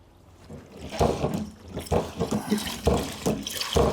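A heavy liquid chemical for car care products is poured onto a scale in fitful, gurgling surges, close and moderately loud, with no talking.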